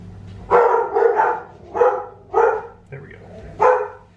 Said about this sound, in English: until I hear the dogs going